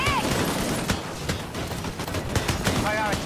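Rapid bursts of gunfire rattle through a firefight in the video game Disintegration, close and loud, while a player talks over the shooting.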